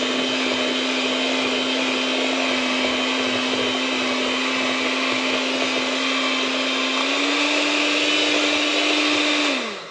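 An electric blender whips waffle batter until smooth, a loud steady whine held for about ten seconds with a slight rise in pitch near the end before it cuts off, with no talking.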